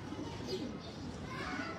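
Breeder pigeons in a Faisalabad loft give a few soft, low coos, faint against a steady background hum, with distant voices murmuring.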